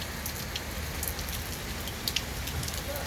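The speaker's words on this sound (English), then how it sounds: "We can see the heavy downpour of rain due to the cyclone Michong" Heavy cyclone downpour lashes Manapakam, Chennai, a dense steady roar of rain drumming on surfaces throughout, with a few sharper drop impacts standing out and no voices.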